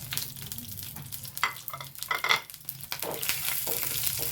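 Chana dal and urad dal fry in hot oil for a koorka sambar while being stirred, producing a continuous close sizzle with scraping stirs and occasional louder bursts of crackling.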